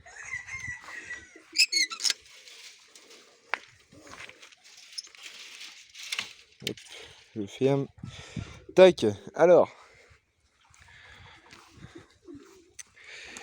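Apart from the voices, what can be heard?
pigeons and other birds in an aviary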